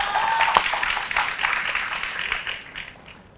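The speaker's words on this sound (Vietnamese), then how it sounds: "Cho một tràng pháo tay" A studio audience on a dating show claps in a brief burst of applause that fades away over a few seconds, with a faint voice and a short tone near the start.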